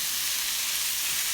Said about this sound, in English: So now I'm just going to add in my meat here because I want this just to barely get done.